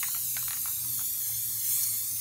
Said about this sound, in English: So just spray it, give a generous amount.